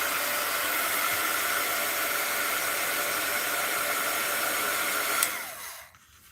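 A blow dryer blasting air over a wet spot on a stamped card, a loud steady whooshing roar held close for about five seconds before it switches off and winds down.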